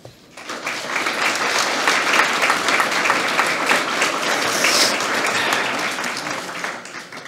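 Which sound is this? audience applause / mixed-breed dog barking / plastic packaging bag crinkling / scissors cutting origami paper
audience applause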